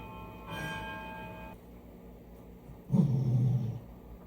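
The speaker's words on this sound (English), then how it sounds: "What you growling at?" A dog growls once, a low close rumble lasting about a second near the end, after a brief ringing tone earlier in an otherwise quiet room.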